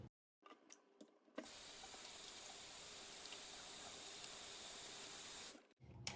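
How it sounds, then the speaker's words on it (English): Hands washed under a running kitchen faucet after handling raw catfish: a few clicks and taps, then a steady hiss of water for about four seconds before the tap shuts off, close and fairly quiet, no speech. "I'm going to wash my hands because I just touched some raw fish"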